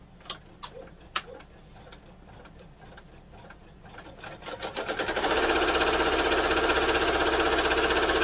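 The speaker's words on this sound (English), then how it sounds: "Now I'm going to stitch that down." An embroidery sewing machine stitches down a notebook cover in the hoop, starting after a few soft clicks and then running steadily and loudly as a dense, rapid mechanical whir.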